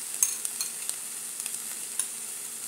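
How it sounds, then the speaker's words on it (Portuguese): Bell pepper sautéing in a pan for a ground beef pasta sauce, with a constant soft sizzle and light scattered spoon clicks and stirring taps, close and without voices. "Eu deixo dar uma boa refogada para ficar bem temperado."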